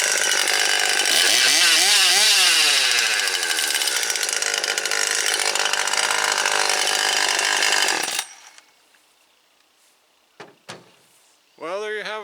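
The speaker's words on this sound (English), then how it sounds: "One Husqvarna 540 XP. First initial start." A Husqvarna 540 XP chainsaw runs loud and close for about eight seconds, its engine rising and falling as it revs, then cuts out to near silence broken by a couple of brief clicks and a short burst of noise at the end.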